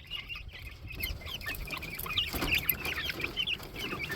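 Young chicks kept indoors chirp and cluck in a rapid, overlapping stream close by, fairly quiet, with no talk.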